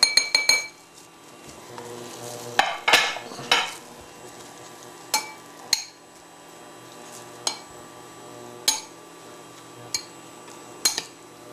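Black bean empanada filling being mixed in a bowl, a utensil clinking and scraping against the dish in a series of sharp, fairly close knocks spread across the stretch, with a brief cluster of rapid stirring scrapes near the start.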